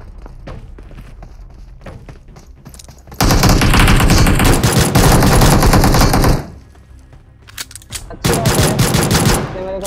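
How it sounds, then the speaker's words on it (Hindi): Pistol gunfire from a Battlegrounds Mobile India match comes as loud, dense bursts of rapid shots, first a long burst and then a shorter one after a pause, mixed with game movement sounds. "देखो पिस्तल से कैसे बजाते हैं"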